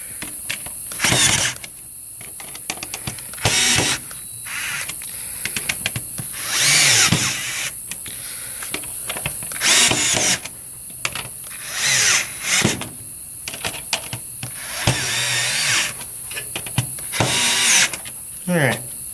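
Cordless power driver tightening screws while a Ryzen 7 3800X desktop PC is assembled, giving repeated short whirring bursts spaced a few seconds apart, close up, with someone talking between them.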